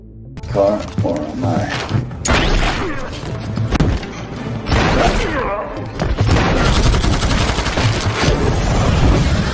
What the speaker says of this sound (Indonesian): Kemudian, Jimmy melakukan perlawanan, hingga terjadilah aksi baku tembak sengit.